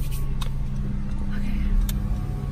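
A car's engine runs steadily as it pulls away and drives around the corner, a continuous low rumble close inside the cabin with faint quiet talk over it.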